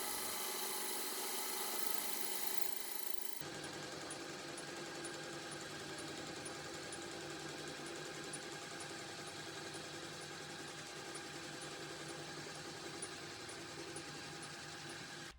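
A three-phase metal lathe powered through a $50 VFD runs steadily in a workshop, a continuous motor whine and machining hum with no talk, starting with a brief louder burst before settling into an even drone.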